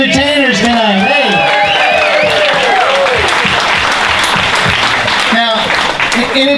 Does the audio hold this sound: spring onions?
no